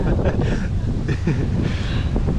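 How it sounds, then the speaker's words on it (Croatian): Strong gusty wind buffets the microphone with a constant low roar, loud and close, and faint voices sound underneath. "Aha, Tijana se bori s vjetrom."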